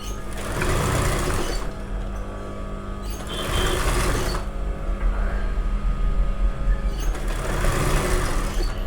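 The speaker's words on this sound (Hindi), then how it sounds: "मैं इसके जस्ट पास में से सिलाई लगाऊंगा, और बिल्कुल हल्के हाथ से आपको लगाना है" Sewing machine stitching a lehenga seam, a close, steady mechanical whir running throughout in three longer bursts with brief dips between them.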